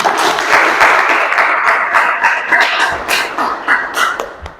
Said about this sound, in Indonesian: Beri aplaus yang meriah untuk 3 pertanyaan yang tadi